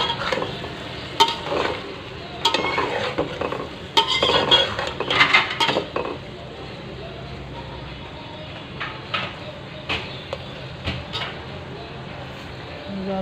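Okra (bhindi) is stirred in a cooking pan over a soft sizzle. A utensil scrapes and clinks against the metal in irregular bursts, then the stirring settles into quieter frying, with some faint voices in the background.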